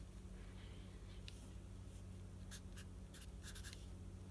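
Pencil or pen writing on a card while a DIY scratch-off surprise is made, giving soft scratchy strokes in short bursts against a steady low hum, close and faint.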